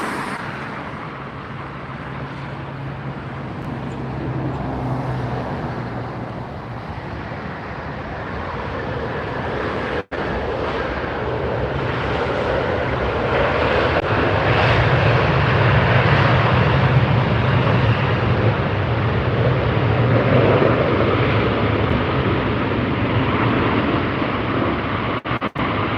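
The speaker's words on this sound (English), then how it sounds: "This is the 777-200 ER, American Airlines," An American Airlines Boeing 777-200ER arriving from Dallas lands at LAX, a steady broad jet roar that swells and stays loud through the second half, with wind buffeting the microphone and no talk.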